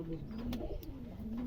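A Ghazi-breed pigeon coos softly, a low, faint rolling call repeated through the moment, with a couple of sharp clicks and light background rustle.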